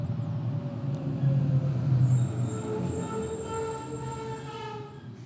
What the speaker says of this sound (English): Some sort of random garbage truck.